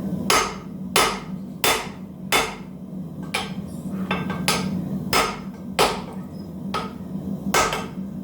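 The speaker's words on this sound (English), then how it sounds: "Helps to use the round die of the rounding hammer." Repeated metallic blows of a rounding hammer on hot steel ring out at a steady, slightly uneven pace, about a dozen sharp strikes close by, with a low hum underneath.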